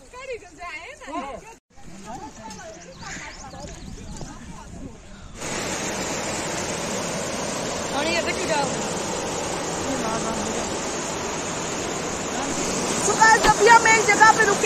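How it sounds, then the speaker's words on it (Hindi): Water gushing out under strong pressure at an outdoor spot in Kashmir, a steady loud broadband rush that takes over after people talk at the start, continuing without a break and swelling slightly near the end. "यहाँ पे देखो कितने जोर से कितने प्रेशर से पानी आ रहा है, ये देखो आवाज देख रहे हो"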